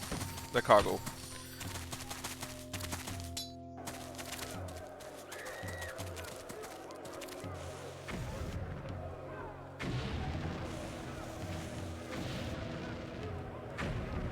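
Faint gunshots crackle during a convoy ambush in the old strategy game Fugger II, scattered under steady game music and a talking voice.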